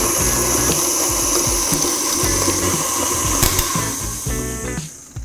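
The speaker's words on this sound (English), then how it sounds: "put our butter in the mixer and mix it until it's smooth and creamy" A stand mixer beats vegan butter for gluten-free, dairy-free lemon blueberry cupcakes, giving a steady, close whirring hum with a rhythmic mechanical churn that carries on unbroken before easing down near the end.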